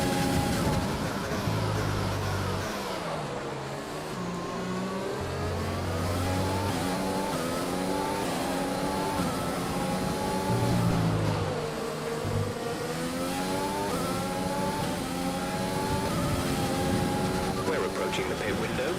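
Formula 1 car engine in the F1 2020 video game at the Chinese Grand Prix, a steady mid-pitched racing whine with rising and falling gear shifts running throughout, with someone talking over it.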